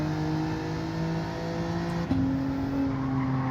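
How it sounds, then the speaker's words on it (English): Race car engine in Gran Turismo 7 at Dragon Trail Gardens, a steady droning hum held near constant pitch with a brief shift partway, heard close and alone. "And the car sounds weird as well."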